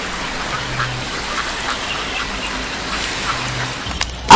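Ducks quack intermittently near water, set against a steady wash of background noise, with a brief louder burst at the very end.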